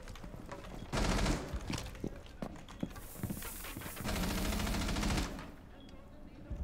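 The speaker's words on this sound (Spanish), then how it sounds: "Se me está disparando por disparar." A gun in Rainbow Six Siege firing on its own, rapid automatic bursts crackling in several loud stretches, with a voice speaking faintly between the volleys.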